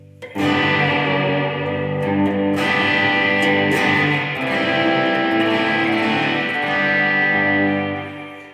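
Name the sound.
electric guitar through amp with reverb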